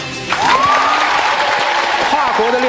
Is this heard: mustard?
no